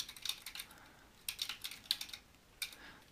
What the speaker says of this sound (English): I'll type a nice short and sweet one.